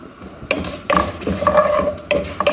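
Rice is stirred in a pan with browning food, giving several short scraping strokes at an uneven rhythm, close and clear, with no talking.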